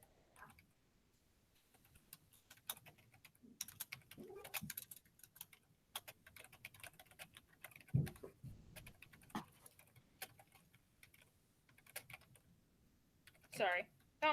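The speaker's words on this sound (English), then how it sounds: "I'm just typing my little heart away." Quiet, irregular clicking of computer keyboard keys typed in scattered bursts, near and soft, with occasional faint talk and room sounds in between.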